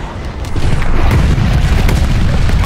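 A glide bomb explodes in Call of Duty: Vanguard, a loud, close, deep boom with a rumbling tail that lasts to the end.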